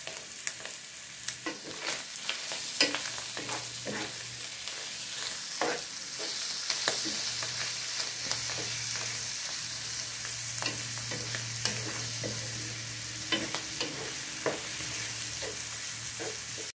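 Sautéing in a pan for a home-style corn, cream and ham dish: a continuous close sizzle with frequent light clicks and scrapes of stirring throughout, no voices.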